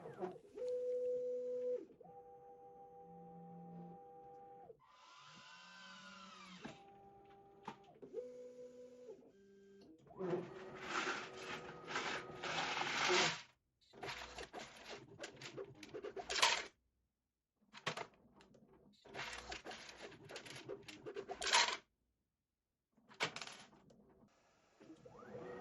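A 3D-printed fastener counting machine runs its loading process: stepper motors whine in tonal bursts, followed by rapid clattering and rattling of fasteners in stop-start bursts with short silences, fairly quiet overall.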